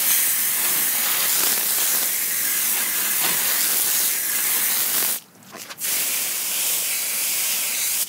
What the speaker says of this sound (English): So I'm gonna go ahead and hose this off and hit it a third time.